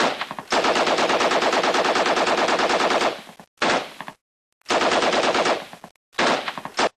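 Video game machine-gun fire rattles out in four rapid bursts: a long burst of about three seconds, then shorter ones separated by silent gaps, loud and close with no speech.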